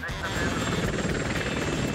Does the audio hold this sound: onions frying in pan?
no